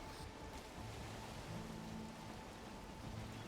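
Steady rain falls in the Valheim game world at night, a dense, even hiss that runs for the whole stretch, with low tonal music or game hum underneath and no voices.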